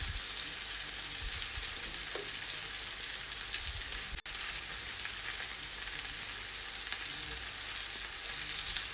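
Shrimp sizzling in a pan after being flipped, a steady close hiss of frying with light crackle and a few soft stirring knocks, continuous and alone.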